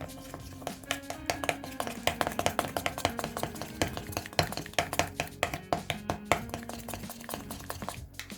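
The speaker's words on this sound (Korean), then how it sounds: "마요네즈, 레몬즙 약간, 설탕 약간, 그리고 섞어줍니다." A sauce of whole grain mustard, mayonnaise, lemon juice and sugar is mixed in a bowl, giving rapid, rhythmic tapping and clicking strokes that sound close and continue throughout.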